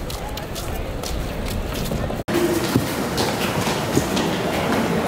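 Trains at a busy central Tokyo station at rush hour, a steady rumble of rail cars with faint clacks and crowd murmur throughout, with a brief dropout midway.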